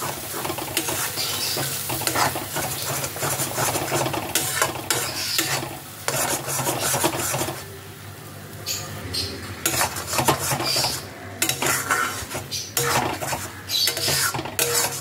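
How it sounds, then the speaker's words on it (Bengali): Pointed gourd (potol) and shrimp paste being stirred and fried in oil in a pan, with a steady sizzle under repeated scraping and clinks of a spoon against the metal, pausing briefly midway before resuming. "এবার সব কিছুকে একসাথে ভালো করে মিশিয়ে নিয়ে তেলের মধ্যে ভালোভাবে ফ্রাই করতে হবে"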